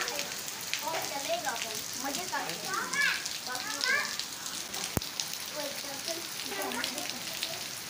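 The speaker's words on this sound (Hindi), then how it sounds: "तकरीबन 1 घंटा तक ये जो बारिश है इसी रफ्तार से बरसती रही है।" Dense rain hisses steadily with voices talking over it throughout.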